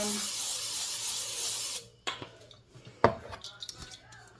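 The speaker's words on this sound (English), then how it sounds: "olive oil non-stick spray into my pan" A steady hiss of olive oil non-stick cooking spray into a pan lasts nearly two seconds, followed by a few sharp metallic clinks and knocks of the pan.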